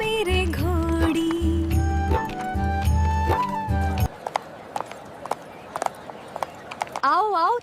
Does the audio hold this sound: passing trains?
no